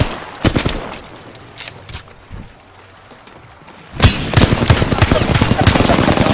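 Gunfire from an Apex Legends match: a few scattered distant shots early, then a loud dense burst of rapid automatic fire for the last couple of seconds.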